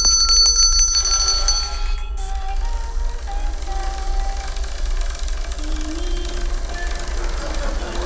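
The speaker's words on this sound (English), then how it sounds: "when I ring the bell, the doll's right arm comes up." A single bell rung during a stage demonstration with a doll, a bright ringing strike at the start that fades quickly, followed by a steady low hum with faint scattered tones.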